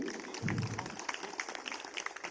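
An audience claps for award winners at a police passing-out parade of the 43rd Battalion PAC in Etah, Uttar Pradesh. The applause is faint and distant, a scattered patter of hands in an open space.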